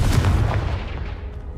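A Confringo blasting spell explodes in the Hogwarts Legacy video game, one heavy booming blast that rolls off over about a second and a half.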